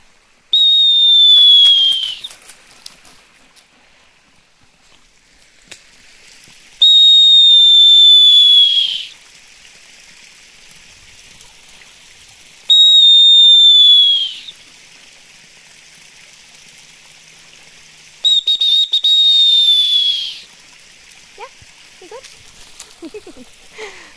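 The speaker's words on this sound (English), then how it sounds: "I wanted to see how loud this whistle goes." A loud, piercing whistle blows in four long blasts, each lasting a couple of seconds, with quiet outdoor pauses between them in Indian Canyon.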